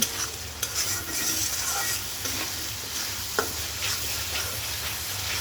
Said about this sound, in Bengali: আমি মশলা কষাইতে থাকি।